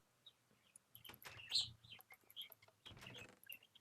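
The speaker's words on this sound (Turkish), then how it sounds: "Arkadan aşırı kuş sesi geliyor olabilir." Birds chirp outdoors in short, scattered calls, fairly faint and distant, over a quiet background.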